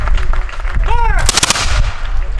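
A volley of muskets fired as a salute at a Sagtikos Manor ceremony, one sharp crackling ragged burst after a shouted command, loud and nearby, followed by outdoor crowd murmur.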